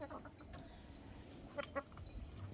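Black Australorp hens cluck softly and sparsely in a quiet poultry yard, with a couple of short clucks standing out against faint background noise.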